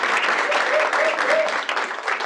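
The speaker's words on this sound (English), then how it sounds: "let's give a round of applause for Caitlin." A round of applause breaks out at an office team meeting, a small group clapping steadily for a couple of seconds with voices mixed in.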